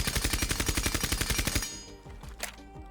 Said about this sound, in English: Going over to the suppressor, all it does is makes your gun quieter and removes the muzzle flash